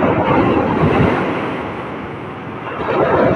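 Ocean surf rushes and roars close by, swelling, easing off, then building again under gusty wind noise on the microphone.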